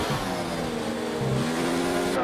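A race car engine revving hard while losing traction, a strained, buzzing, steady roar with wavering pitch, loud and close with no voices.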